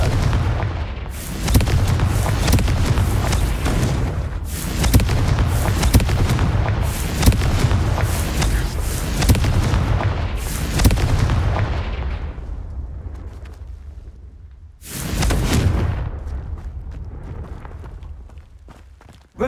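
Confringo fire-blast spell explosions from the Hogwarts Legacy video game, a string of loud, booming bursts going off one after another at close range with rumbling tails, then a quieter lull before one final heavy blast.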